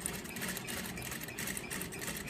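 A sewing machine stitches a gore skirt seam in a steady, quiet, even run of rapid needle strokes, with no talking over it.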